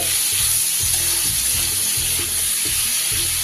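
Tomatoes sizzle and crackle steadily in hot oil, a constant hiss with occasional stirring scrapes.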